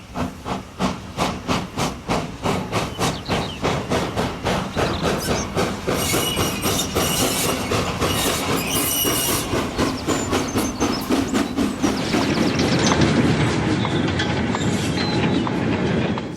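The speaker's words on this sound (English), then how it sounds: "Harry's shunting empty wagons to take back to the colliery." A steam locomotive on the Astley Green and Walkden Railway shunts empty coal wagons back toward the colliery, with loud rhythmic chuffs and hissing steam, then clanking wagons and a rising rush of steam near the end.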